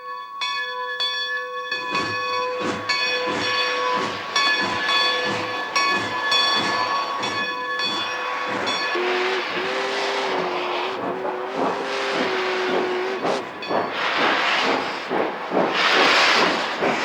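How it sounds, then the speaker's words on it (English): Steam locomotive pulling out after a stop, opening with loud repeated whistle blasts, then heavy rhythmic chuffing exhaust building and quickening as the train gets moving, close and alone without talk. "the train came out of the hole as the engineer cleared the stacks"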